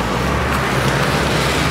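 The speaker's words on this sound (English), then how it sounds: "Yo, you like that burnout?" Loud, continuous roar from a Honda Civic EK hatchback doing a burnout on the street, engine and tire noise blended into a dense, sustained wash heard up close.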